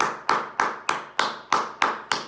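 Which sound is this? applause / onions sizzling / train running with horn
applause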